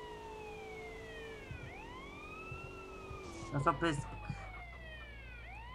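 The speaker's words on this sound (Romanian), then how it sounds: "Activează sirena asta de poliție." Police car siren wailing in GTA San Andreas Multiplayer, rising and falling sweeps repeating steadily, with a loud engine burst and clatter partway through and a person talking over it.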